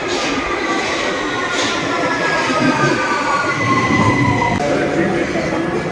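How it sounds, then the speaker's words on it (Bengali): A train bound for Glasgow Central in the UK gives off a loud, steady rumble with a sustained whine and faint wheel noise throughout. "এই হচ্ছে ট্রেন, এটা গ্লাসগো সেন্ট্রাল যাবে।"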